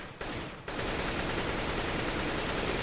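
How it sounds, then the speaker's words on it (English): Rapid automatic gunfire in the video game CS:GO during recoil-control practice, a dense sustained burst that starts after a brief shot and gap, loud and close with no talk. "if I just shoot this now"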